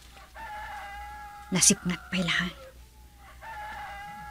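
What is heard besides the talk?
roosters crowing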